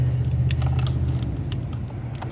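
A 2007 Cadillac DTS on a test drive produces a steady low engine and road rumble from inside the cabin, with light creaks and ticks scattered over it.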